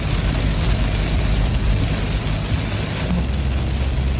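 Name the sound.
heavy rain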